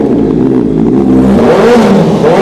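A Honda CBR650F sport motorcycle engine revs loudly up close, its pitch climbing and falling in quick throttle blips.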